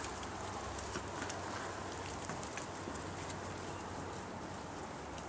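Backyard hens in a garden run chatter and squawk steadily at moderate distance, their calls blending into a continuous rustling, noisy bed of sound with no clear individual cries.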